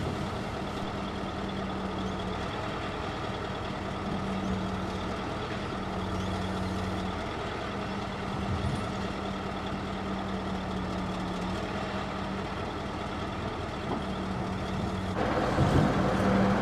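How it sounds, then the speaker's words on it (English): A massive old 95,000 lb V8 wheel loader holds a steady, heavy diesel rumble while standing still and forcing its bucket down, its low hum continuous and close, with a brief surge in loudness near the end. "I'm forcing down on the bucket in the standstill position to take the weight off the front half of the machine"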